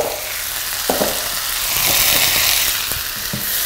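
Rice noodles for Pad Thai hitting a hot pan, a loud, dense, continuous sizzle and hiss close up, with a few dull knocks and scrapes as they are tossed around.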